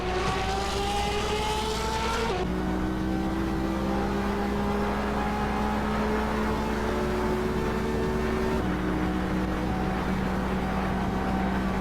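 Racing car engine on a straightaway, a steady loud drone with rising pitch and two shifts where the tone drops, continuous for about twelve seconds with no talk over it.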